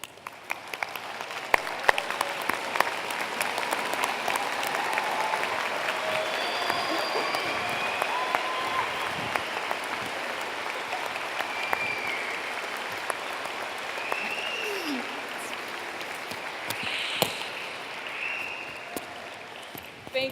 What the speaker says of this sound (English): please stand and honor them with a round of applause